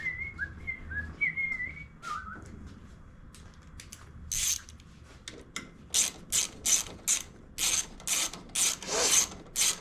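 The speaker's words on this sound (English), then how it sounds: "now we'll put the bolt back in it" A ratchet drives a bolt back into a car's fuel line fitting: a few faint whistly squeaks at first, then a quick series of loud, evenly spaced clicking ratchet strokes close by.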